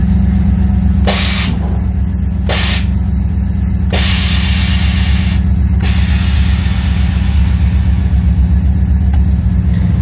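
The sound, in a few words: truck engine running with Flowmaster straight-pipe exhaust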